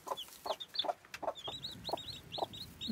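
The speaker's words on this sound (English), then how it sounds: "She's a little bantam hen," A bantam hen clucks in low, soft, repeated pulses while her chicks cheep in quick high chirps around her, close by and fairly quiet, with no talking.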